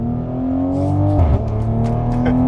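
A Toyota MKV Supra running on pump gas accelerates hard, its engine note rising steadily and then dipping briefly at a shift before climbing again, loud and close.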